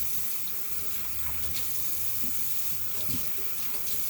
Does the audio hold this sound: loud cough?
no